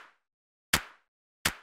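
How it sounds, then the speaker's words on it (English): Organic, huge-sounding clap sample from a sample pack for an electronica or downtempo track, heard as three sharp isolated hits evenly spaced, each decaying quickly into silence. "This is a clap sample from my sample pack."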